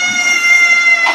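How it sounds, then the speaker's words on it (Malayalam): A house cat gives a drawn-out, steady meow near a home kitchen while a chicken curry and tapioca meal is being made, one sustained tonal cry that stays loud throughout. "എന്താ പൂച്ചയുടെ സൗണ്ട്?"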